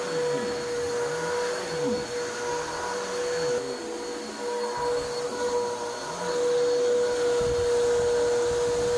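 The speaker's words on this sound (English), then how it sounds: "All right, upstairs is done" An upstairs vacuum cleaner runs in a loud, unbroken whine while pre-cleaning a house full of dry soil, its pitch wavering slightly as it is pushed back and forth, with no talking.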